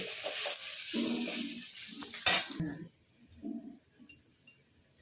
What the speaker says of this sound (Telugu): దొండకాయ వేపుడు చేస్తున్నా చూడమ్మా అది కూడా వేగుతూ ఉంది